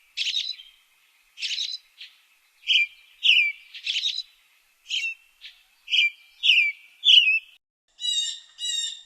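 Blue jay calls in a rapid series of short, bright bursts, repeated about a dozen times with brief gaps, clear and fairly close with no other sounds around them.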